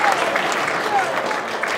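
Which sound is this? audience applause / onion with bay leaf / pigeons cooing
audience applause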